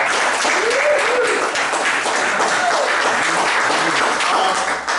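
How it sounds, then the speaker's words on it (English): A class gives itself a round of applause, dense steady clapping from a room full of people for several seconds, with a few brief voices mixed in. "give yourselves a round of applause for that, folks"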